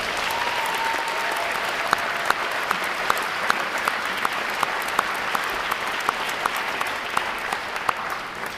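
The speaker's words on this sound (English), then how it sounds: "Let's give all the friends and family a round of applause." Steady applause from a crowd of friends and family at a Navy recruit training graduation at Great Lakes, a sustained wash of clapping with a few sharper claps rising above it throughout.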